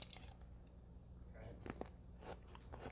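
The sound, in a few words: crunch of biting into a pickle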